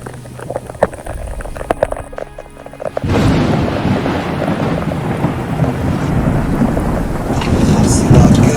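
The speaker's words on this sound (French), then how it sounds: "La tempête est arrivée à leur bunker." A storm with thunder and heavy rain lashes a bunker in a forest; a sudden loud, dense roar of rain and wind sets in and holds steady, with thunder rumbling beneath.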